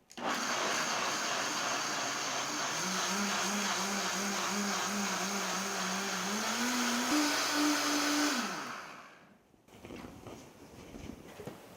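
A kitchen blender grinds soaked soybeans with water into soy milk, a loud steady whirring roar whose pitch climbs near the end before the motor cuts off, leaving a quiet room.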